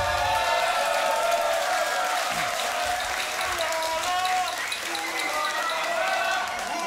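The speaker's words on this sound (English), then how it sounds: "Make some noise for yourselves" Crowd at the 2022 West German Beatbox Championship applauding and cheering loudly and continuously, with whoops rising over a dense wall of clapping.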